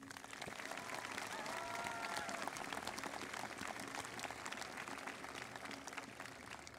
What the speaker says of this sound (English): Please join me with a round of applause for all of the individuals representing Greensburg Salem this evening.